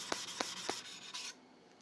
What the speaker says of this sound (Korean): 연마면 정리하면서 조금 더 이 날 부분을 얇게 다시 만들어 줄 거예요